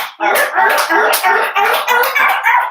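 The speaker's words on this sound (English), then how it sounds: "for the seal, we're going to just clap our hands and clap our feet together" Hands and feet are clapped together in a seal-like motion during a children's yoga session, making a quick, close series of about eight sharp slapping bursts in a steady rhythm.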